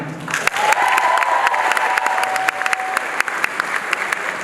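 Sustained applause from a high school graduation audience thanking school staff during a valedictorian speech, loud and dense clapping that fills the room steadily throughout.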